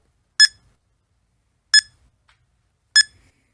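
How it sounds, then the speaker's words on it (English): Three short, sharp electronic beeps from a handheld WiFi access point locator, sounded with its sound button and spaced about a second and a half apart, clear and isolated against silence. "Hit the sound button and it'll start beeping the closer you get to it."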